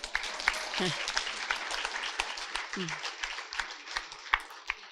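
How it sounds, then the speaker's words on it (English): Women's forum attendees at a council event give a round of applause, moderate clapping with sharp individual claps standing out and a voice briefly heard over it. "give her a round of applause"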